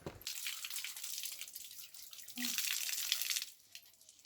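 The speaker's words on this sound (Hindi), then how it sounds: "यहाँ पर अभी नल आएगा जहाँ से हम लोग पीते हैं" Water gushes from a village drinking-water tap in rural Uttarakhand, a close, steady splashing rush that swells and then eases, with no speech.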